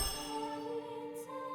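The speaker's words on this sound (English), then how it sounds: "Let's just use a return bell." A return bell item in the video game Harvestella rings out as a single bright, sustained metallic chime, its tones hanging and slowly fading with a faint shimmer on top.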